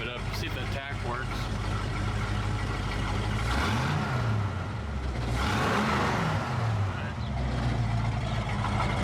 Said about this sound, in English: Rev it up, see if the tack works.